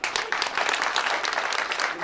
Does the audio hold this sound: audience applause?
yes